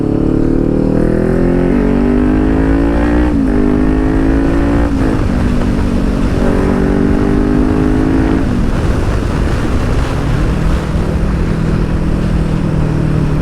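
A Kawasaki Ninja 400 motorcycle with a loud Akrapovic exhaust roars at close range, revving and shifting through rising and falling engine pitches without a break.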